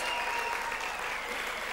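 An audience applauds and cheers at the 2017 WA Training Awards ceremony, dense steady clapping from a large crowd throughout.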